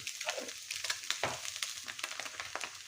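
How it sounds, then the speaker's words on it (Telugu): Cabbage, carrot and other vegetables sizzle and fry in a hot pan, a steady crackling hiss broken by repeated stirring scrapes, close and alone with no talking. "వెజిటేబుల్స్ అనేవి త్వరగా వేగుతాయి"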